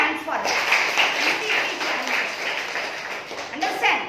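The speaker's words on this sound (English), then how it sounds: "Clap your hands for her." A classroom of pupils applauds a student during a lesson on numbers, with dense scattered clapping running steadily throughout, mixed with voices and chatter.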